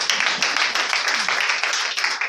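A church congregation claps together in a dense, steady burst of applause, loud and close, with a few voices mixed in.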